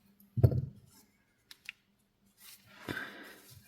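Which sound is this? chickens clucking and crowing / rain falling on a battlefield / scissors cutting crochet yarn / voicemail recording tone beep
scissors cutting crochet yarn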